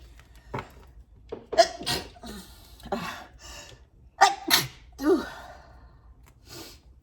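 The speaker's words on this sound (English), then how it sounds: "when I sneeze in readings, it's always truth because I never sneeze any other time" A few sharp, breathy bursts stand out against quiet, like sneezes and gasps close by, separated by short pauses.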